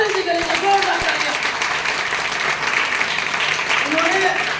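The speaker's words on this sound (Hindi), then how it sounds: "मिस्टर परवीन चौधरी जी के लिए जोरदार तालियां" An audience at a company meeting claps loudly and continuously for someone on stage, a dense wall of applause with a faint tonal sound running underneath.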